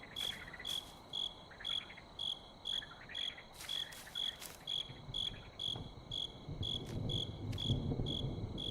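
Frogs call in a video game's forest ambience: a quiet, even train of short, high chirping pulses repeating at a steady rhythm over a soft background hush.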